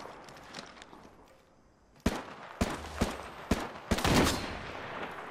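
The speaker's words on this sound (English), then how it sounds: "Shot fired, and they're hitting me" Gunfire cracks out in Apex Legends: a quiet stretch, then a sudden string of sharp, close shots in a quick irregular volley, closing in a denser burst of fire.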